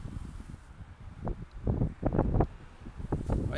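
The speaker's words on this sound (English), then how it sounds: "Man, is that windy right here." Gusty wind buffets the microphone in low, uneven rumbles, with a few light rustling bursts rising and falling over a few seconds.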